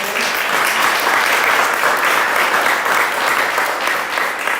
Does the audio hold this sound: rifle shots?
no